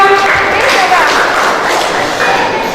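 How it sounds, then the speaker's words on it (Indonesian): An audience claps at a gathering at an Islamic boarding school in Makassar during a visit by the head of the city's food and drug agency; the steady applause runs for about three seconds, with faint tonal sounds mixed in. "Tepuk tangan dulu ya"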